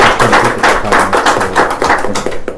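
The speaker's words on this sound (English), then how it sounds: "a round of applause for Steve Jett" A meeting audience applauding a guest, Steve Jett: loud, close, rapid clapping from a small group, sustained for a couple of seconds and tapering off at the end, with no voices.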